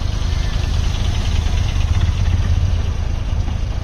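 A taxi's engine idles close by on a street in Novi Sad, Serbia, giving off a steady, dense mid-low rumble that holds at an even loudness throughout, with no talking.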